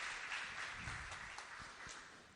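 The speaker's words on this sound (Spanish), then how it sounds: "con un fuerte aplauso de vuelta arrancamos esta jornada" Faint, distant audience applause at a veterinary talk on FIV and FeLV rapid tests: a steady wash of many hands clapping that slowly fades over a couple of seconds.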